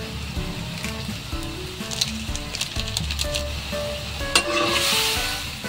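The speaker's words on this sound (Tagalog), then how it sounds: "Halu-haluin lang natin yan guys." A bitter gourd and chicken liver sauté is stirred in a hot pan, with a steady close sizzle and frying hiss and the repeated scrape and clack of a utensil stirring through the pieces.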